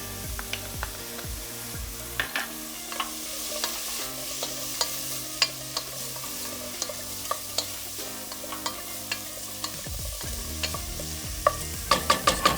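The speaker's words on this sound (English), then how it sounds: "Saute that quickly" Lots of garlic sautéing quickly in a pan for a vegan sancocho stew, with soft sizzling and repeated clicks and taps of a utensil stirring, close up over background music.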